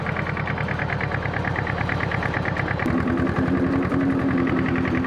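Tractor-towed lawn mower engine running gently without revving, a steady rumbling idle-like drone that continues throughout with a slight shift partway through.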